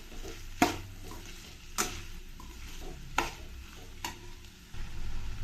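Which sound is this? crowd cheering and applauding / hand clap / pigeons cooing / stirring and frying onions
stirring and frying onions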